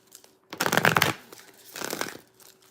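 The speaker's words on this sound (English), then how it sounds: "Let me shuffle this out." Tarot cards being shuffled in two bursts, a loud riffling flutter followed after a pause by a softer second shuffle, close up with no talk.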